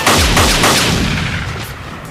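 A loud, close burst of gunfire from a dramatic scene, with dense overlapping booming reports that crowd the first second and then decay into a rumbling tail.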